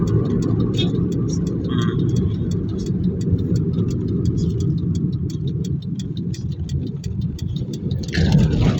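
A car drives on the road with a steady, loud engine and tyre rumble that goes on without a break. Faint ticking rides on top of it, and the noise rises slightly near the end.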